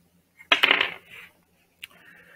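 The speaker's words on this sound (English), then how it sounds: "Okay, we're gonna roll the dice again." Dice clatter onto a hygiene-themed game board in a single quick roll, a bright rattle that settles, then a brief small tap after a pause; no one speaks.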